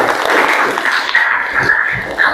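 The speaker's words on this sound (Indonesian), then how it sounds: "tepuk tangan untuk kelompok nanti" Classroom applause for a student group, a loud, dense patter of many hands clapping close by, sustained and fairly even throughout with slight swells.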